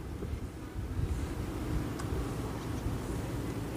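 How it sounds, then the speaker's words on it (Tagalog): Strong gusty wind buffeting the microphone outdoors near the Monte Maria shrine in Batangas City, a steady low rumble of wind noise with no talk. "Strong wind."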